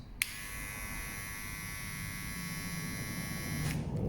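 A cordless T-cuts hair outlining trimmer switched on with a click, buzzing steadily with a bright harmonic whine for about three and a half seconds, then switched off, close up with faint room noise and no talking.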